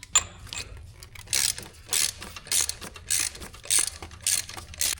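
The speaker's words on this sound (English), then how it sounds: "we'll get out our torque wrench for that fun torque spec that we got to tighten this thing down to" A torque wrench ratchets a harmonic damper bolt tight on a Corvette LS engine, in a regular series of about eight clicking strokes, close and clear with no talking.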